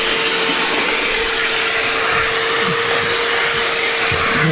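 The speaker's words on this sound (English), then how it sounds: "So I turn the BISSELL on." A BISSELL carpet cleaner runs with a loud, steady whining roar of motor and suction, unbroken and close throughout.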